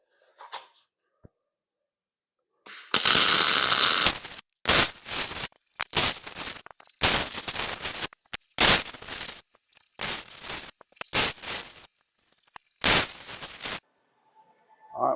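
A steel base plate for a flag pole concrete anchor is welded in a series of crackling, sputtering bursts, each a few seconds long, separated by short silences.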